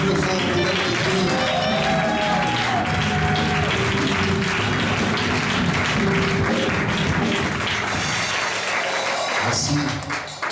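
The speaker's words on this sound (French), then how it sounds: "Acclamons encore très fort pour notre Dieu." A church congregation applauding and cheering in praise of God, a dense continuous wash of clapping and crowd voices that fades near the end.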